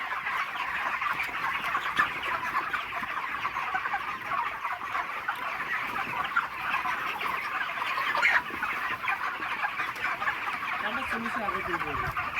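A flock of poultry chickens on a broiler farm clucks continuously, a dense chorus at moderate distance with faint voices underneath.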